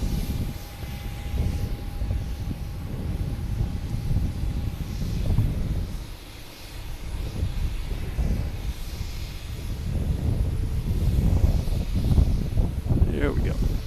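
A JetBlue Airbus A320 airliner arriving from Fort Lauderdale at Boston Logan rumbles broadly overhead, its engine roar swelling louder toward the end, with a steady whine and people talking nearby.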